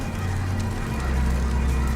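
A chicken clucks softly and continuously in low, throaty murmurs, close by, over a brief two-second stretch with no talking.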